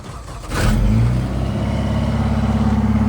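An off-road vehicle's engine starting in the snow: a short cranking catch quickly rises into a loud, steady idle that carries on close by.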